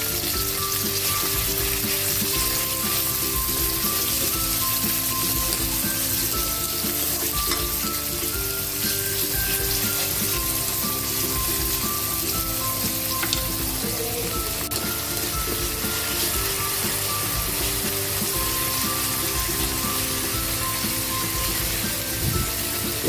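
Tomatoes frying for adobong pusit, with steady, dense sizzling and crackling in a hot pan continuing loud and unbroken throughout, alone with no voices.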